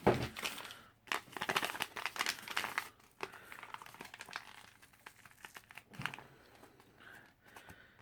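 Paper packet from a US RCW 6B cold weather ration being torn open close up, a burst of rustling ripping sounds followed by quieter intermittent crinkles and rustles.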